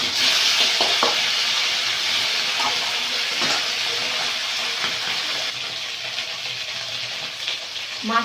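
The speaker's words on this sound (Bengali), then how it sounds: "এবারে মাছটা ভেজে নেব, তেল দিয়ে দেবো, তাহলে মাছটা ভেজে নেব।" Fish frying in hot oil in a village kitchen, a steady close sizzle and crackle that runs throughout with occasional spatters, loud and continuous with no talking.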